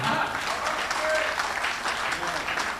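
Audience applause at a Hindi comedy poetry recital, a faint, steady wash of clapping that holds evenly for a few seconds.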